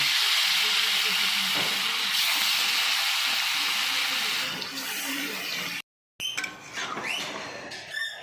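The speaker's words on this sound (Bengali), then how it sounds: "বাটারটা কিন্তু গরম হয়ে গেছে এবারে চিকেনটা দিয়ে দিচ্ছি" Chicken pieces fry in hot butter in a pan for butter chicken, making a loud, steady sizzle that dips, breaks off briefly, then returns with clattering stirring sounds.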